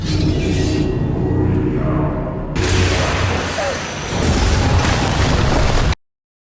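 A loud, rumbling explosion with a sustained roaring blast and debris noise, swelling again before cutting off abruptly.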